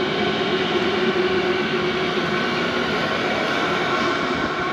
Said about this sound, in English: So I've got a diesel heater cranking at the moment.